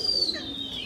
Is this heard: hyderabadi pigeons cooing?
yes